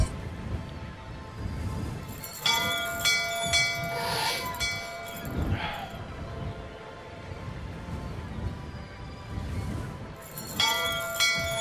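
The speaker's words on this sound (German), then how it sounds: "baue da mal die Glocke an und teste das mal kurz" A bell rung in the adventure game Syberia gives several clanging strikes, each ringing out with long metallic overtones, spaced through the stretch with quieter rumbling in between and no speech.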